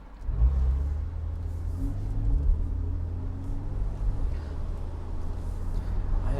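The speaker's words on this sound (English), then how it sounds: "Just waiting for some cars to come through." Cars roll past on a road in a low, steady rumble that lingers for several seconds, with one vehicle revving a little near the start before the sound settles into a continuous drone.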